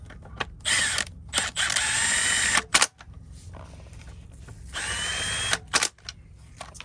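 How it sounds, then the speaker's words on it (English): A Milwaukee 1/2 inch compact impact wrench fires in several loud, close bursts of rapid hammering, with short gaps of quiet between them, as fasteners are worked on a GM 5L40E transmission from a BMW E46 3-Series. "I like this Milwaukee 1/2 inch compact impact"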